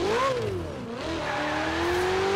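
A Ferrari engine in the racing game Forza Horizon 4 revs up and down with a smooth, loud tonal whine, pitch rising, dipping, then climbing steadily, heard alone.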